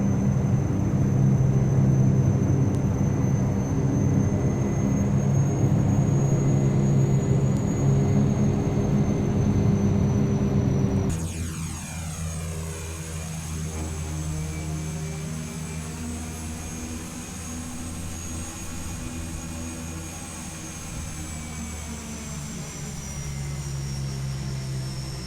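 A Carenado Shorts 360 turboprop taxis in a flight simulator, with a steady engine drone and high whine that drop in level partway through, followed by a sweeping, phasing tone as the aircraft rolls along.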